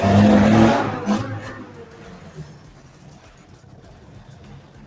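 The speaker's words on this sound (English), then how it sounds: "We get lots of loud cars on this road up next to." A loud car on a road in Puerto Rico roars close by at the start, then fades quickly into the distance, leaving quiet road ambience with faint birds.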